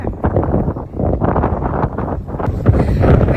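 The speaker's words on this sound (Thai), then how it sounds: "มีลมพัดมาแรงๆ ก็ต้อง ใส่ฮูดหน่อย" Strong wind gusts buffet the microphone outdoors in open Belgian countryside, a loud, continuous low roar that swells and dips across the stretch, with no voices.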